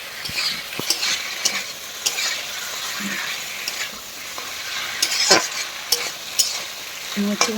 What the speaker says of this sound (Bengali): দিয়ে লবণটা দিয়ে ভালো করে নাড়াচাড়া করতে হবে